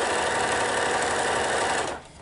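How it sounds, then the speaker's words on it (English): A sewing machine runs steadily while chain piecing quilt block segments, a close, continuous whirring hum that cuts off just before the end. "When I sew these sets together"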